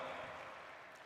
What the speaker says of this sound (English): A big round of applause once again, my friends, for revered Professor Dr.